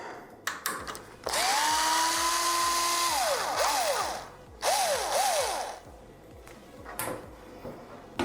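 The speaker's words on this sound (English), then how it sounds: "I need to take out these thumb screws" Thumb screws being backed out of a Thermaltake Core P3 PC case, heard as a whirring, ratcheting turning sound in a few separate bursts with rising and falling squeaky tones, close and fairly loud, with no talk.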